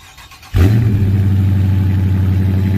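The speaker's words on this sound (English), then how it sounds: "Get a nice little cold start here." A stock 2020 Dodge Charger R/T engine cranks and fires up abruptly on a cold start, settling into a loud, deep, rumbling idle with a throaty exhaust burble.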